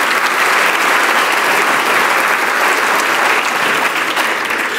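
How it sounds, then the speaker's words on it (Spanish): A church congregation gives sustained, loud applause, a dense steady wash of clapping from the whole audience that holds evenly from start to finish with no talk over it. "a ese Dios dele otro aplauso con todo su santo corazón"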